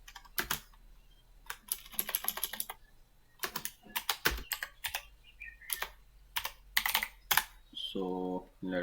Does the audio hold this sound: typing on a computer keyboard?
yes